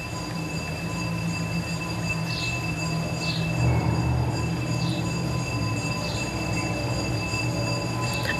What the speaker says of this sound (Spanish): Y ya vino la basura a ponernos sonidos de fondo.